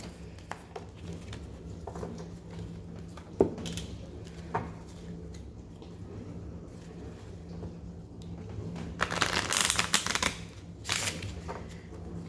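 A tarot and oracle card deck is shuffled by hand, with soft scattered flicks and taps building to a denser riffling burst near the end, close and quiet.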